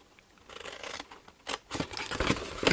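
Scissors cut paper for a card-making project with a series of close, crisp snips and rustling slices that grow louder and quicker toward the end, no talk.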